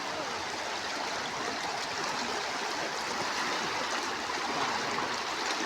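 River water flowing in a steady, broad rushing wash after a flood wave, continuous and fairly close with no speech over it.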